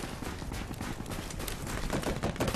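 A shotgun nicknamed the broccoli gun fires in an Infection match of a first-person shooter, a dense run of sharp rapid blasts at close range, loud and continuous with no talk over it.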